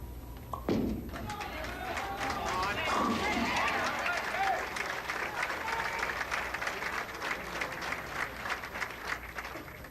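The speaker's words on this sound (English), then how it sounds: "A sedated round of applause for the tournament leader, Dientremont" Subdued crowd applause at a 1995 professional bowling tournament, a moderate patter of clapping that starts after a sharp thud and carries on steadily underneath talk.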